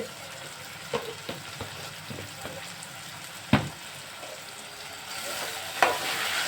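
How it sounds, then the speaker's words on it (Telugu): Eggplant and tomato curry sizzles in a pan while a spoon stirs it, with soft scraping strokes and a few sharper knocks against the pan over a steady frying hiss. "ఉప్పు కారం వేసి మళ్ళీ ఒకసారి కలిపి బాగా"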